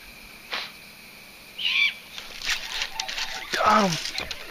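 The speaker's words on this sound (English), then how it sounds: "Was that an owl up there?" An owl calls from up above a lakeshore at dusk, a few short hoots spaced apart over faint ambient noise, with soft rustling between calls.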